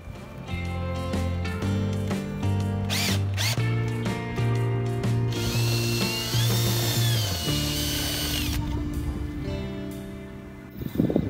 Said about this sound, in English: I'm going to re-drill that hole.